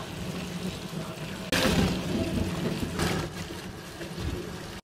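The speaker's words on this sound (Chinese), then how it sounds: "皮去掉之后，给它冲洗干净。" Running water rinses peeled taro. After a quieter opening, a sudden gush starts and continues as a steady, fairly close splashing rush.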